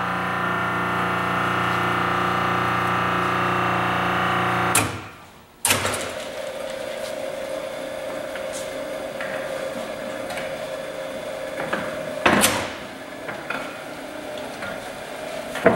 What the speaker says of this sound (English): Automatic plate shifter works very well.